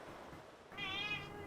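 Samuel, an impatient house cat, lets out a single drawn-out, high-pitched meow that starts halfway through and carries on to the end, close and fairly loud against a quiet room.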